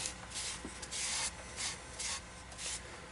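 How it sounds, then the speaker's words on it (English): Rhythmic hand sanding along the edges of a salvaged scrap piece of wood, with several bursts of back-and-forth rubbing strokes, close and steady, with brief pauses between passes and no voices. "I got some hand sanding to do around the edges."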